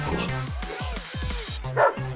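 A dog barks and yips in quick bursts, close and fairly loud, with whimpering pitch glides over a steady background hum.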